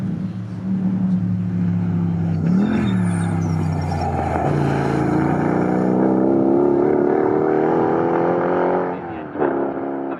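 Race cars, among them a Lotus Cortina, drive toward Hamilton Corner at Snetterton circuit. Loud, close engines roar steadily throughout, with pitch rising and falling as the cars accelerate and shift, and several cars overlap.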